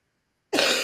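A single sharp cough bursts out abruptly after silence, close and loud, during a casual group session.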